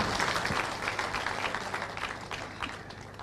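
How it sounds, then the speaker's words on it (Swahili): Crowd applause at an outdoor political rally in Kericho, a steady broad wash of clapping from many people that holds at a constant level and eases slightly toward the end, with no talk over it. "Makofi kwa Deputy Governor."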